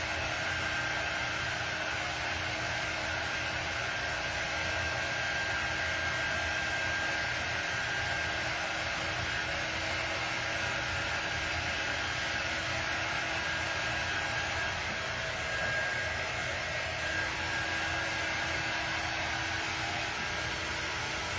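A hair dryer blowing on freshly painted work runs as a steady, close, unbroken whoosh for the whole stretch, with no talking over it.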